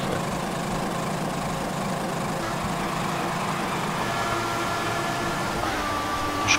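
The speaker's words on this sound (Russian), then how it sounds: "Пердежный двигатель." A Formula One racing car engine drones continuously in the F1 2014 video game during the Chinese Grand Prix, a steady, dense, buzzing roar that stays loud and unbroken throughout.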